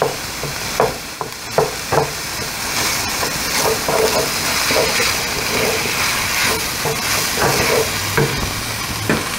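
Sausage fries in a pan on a stove at high heat, producing a dense, continuous sizzle and hiss with repeated scraping and stirring knocks, close up and uninterrupted by talk.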